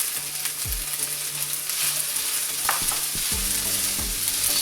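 Thawed peas sizzle steadily in a hot frying pan as part of fried rice, with a few clear clinks and scrapes of a utensil stirring through the crackling.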